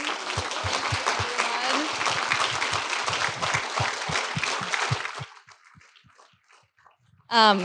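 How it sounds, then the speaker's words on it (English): Dinner guests at an awards event give a round of applause for the organizing team, loud steady clapping for about five seconds before it dies out into a few stray claps, then a voice starts speaking. "give a big round of applause for the entire CEPA team"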